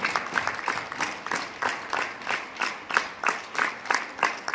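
An audience at a direct-selling business event claps for team leaders in rhythmic bursts of applause, steady and moderately loud, repeating roughly twice a second.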